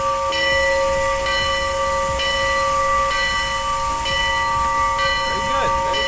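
A locomotive bell in the Roblox game Dg County clangs steadily in an even, repeating rhythm, close and fairly loud over a constant hiss and low rumble, with no one talking.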